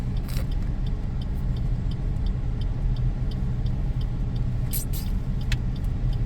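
Rush hour street traffic in Cebu City hums in a steady low rumble of passing cars and vehicles, with faint ticking and a few brief sharp clatters over the continuous road noise.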